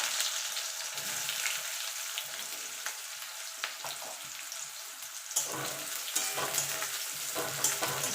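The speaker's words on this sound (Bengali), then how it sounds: "পেঁয়াজটা একটুখানি ভাজা ভাজা করে নেবো" Chopped onions added to whole-spice tempering sizzle and crackle steadily in hot oil, with occasional stirring scrapes in the pan and a louder burst of frying partway through.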